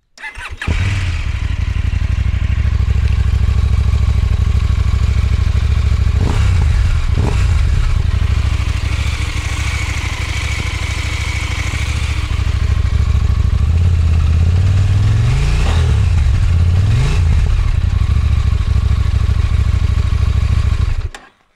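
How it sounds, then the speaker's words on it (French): A KTM 990 Duke motorcycle engine with baffles fitted runs loud and close, idling with a rough throb and rising in a few sharp revs before settling back. "il faut que je te fasse écouter la sonorité du moteur"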